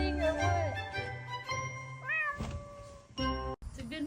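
A mother cat meows several times from a cat tower on a porch, close and clear, mixed with soft thunks, a small jingle and faint background voices.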